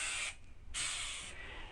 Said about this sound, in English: Now give it all spray with the accelerator.